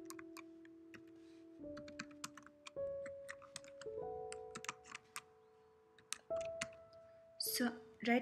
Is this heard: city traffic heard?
no